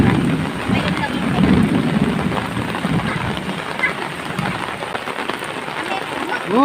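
Steady rain falls on surfaces outdoors with a dense, hissing patter, fairly loud and continuous, as people talk and shout faintly in the background.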